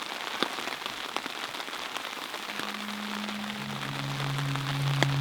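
Heavy rain pours steadily onto a surface during a lakes canoe expedition, a dense continuous patter with scattered louder drops close by; a low steady hum enters partway through under the downpour.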